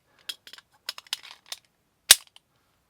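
Metallic clicks and rattles as a magazine is handled and inserted into a SIG P210 Target pistol, a scatter of light taps ending in one loud, sharp seating click near the end, close and otherwise quiet.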